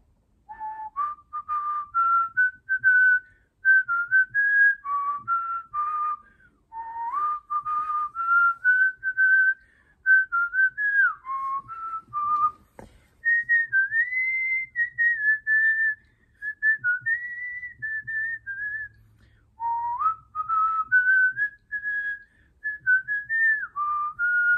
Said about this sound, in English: And now I'll be whistling